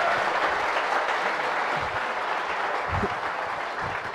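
Loud, sustained audience applause at a coaching institute celebration in Jodhpur, dense clapping from a crowd continuing evenly with a few low thumps underneath.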